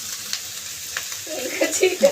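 A hot tempering of spices (tadka) sizzles in a pan, starting faint and building into louder crackling bursts toward the end.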